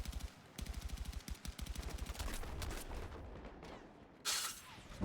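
Automatic gunfire from Battlefield 6 in an 8v8 competitive match rattles out in rapid, clipped bursts, followed by heavier sustained shooting and a louder blast near the end.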